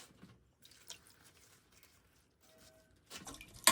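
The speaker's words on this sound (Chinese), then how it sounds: "首先把生菜洗一下" Lettuce being washed in water gives soft, faint drips and small splashes in a quiet kitchen. A louder burst of sloshing water comes at the end.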